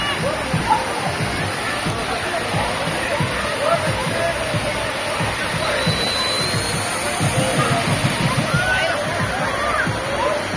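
Water sloshes and splashes continuously in a crowded family pool at Mojoland water park in Murthal, Haryana, a dense churning wash with a general crowd murmur underneath.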